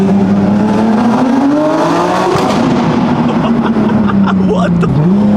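A sports car engine howls loudly inside a tunnel, holding a steady high drone with rising revs and a brief dip, the roar reverberating off the walls; a voice talks faintly underneath.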